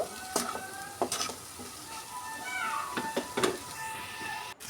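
Potato, onion and chopped tomato are stirred together in a pan, with soft sizzling under repeated spoon scrapes and clicks against the metal, close but fairly quiet, and a faint tonal squeak near the end.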